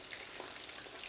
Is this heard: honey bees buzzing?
no